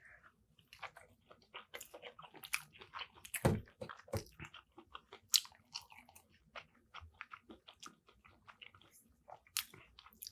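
Close, quiet chewing of unagi eel tacos, with soft wet crunches, bites and smacking sounds in an irregular rhythm and no talking.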